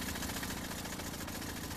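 A 1902 Wolseley car engine runs at a steady, quiet idle with an even, low mechanical chug throughout.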